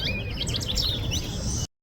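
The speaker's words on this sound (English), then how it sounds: "the first American goldfinch of the year came by" An American goldfinch in a spring garden gives a quick run of bright, high chirps and twittering calls, close and clear over a low background rumble, ending abruptly.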